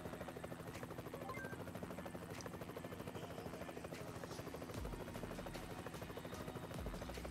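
A video game helicopter's rotor thumps in a fast, steady rhythm under a continuous engine whine, sustained and even throughout, with no one speaking.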